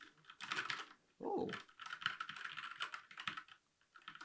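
Mechanical keystrokes on a Keychron K4 V2 wireless mechanical keyboard, a close run of quick clicky taps with a short pause, and a brief voiced exclamation partway through.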